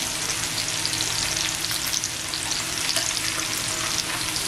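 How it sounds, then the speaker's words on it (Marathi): Curry leaves fry in hot oil in a pan over low heat for a liver masala fry, giving a continuous, dense, crackling sizzle that stays loud and close throughout with no speech. "आता ह्याच्यात आहे ना मी कढीपत्ता टाकते बघा"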